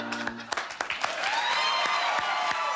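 Writers in a comedy room clap, a burst of applause that starts as scattered sharp claps and grows into dense, sustained clapping nearby, with voices briefly talking at the start.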